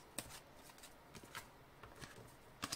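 Tarot cards being shuffled in a quiet room: soft, scattered riffling and flicking bursts, a few sharper snaps, faint and close with no voices.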